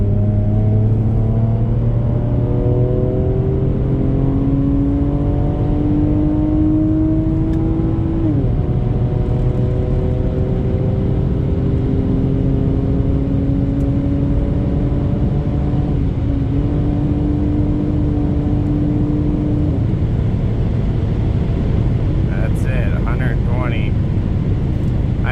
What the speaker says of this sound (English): I'm gonna do a drive-by with these exhausts, but yeah, I definitely like the sound of it though.